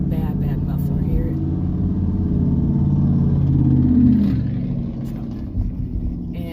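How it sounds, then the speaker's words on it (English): A car or truck with a badly failing muffler rumbles loudly and continuously nearby in traffic, swelling briefly in a deeper roar, heard from inside a moving car with a voice talking over it. "there has been this car or truck or whatever with a really bad muffler"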